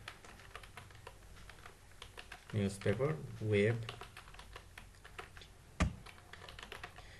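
Computer keyboard typing in Notepad++ at a steady, fairly quiet patter of light key clicks, with a denser burst in the middle and one sharper tap near the end.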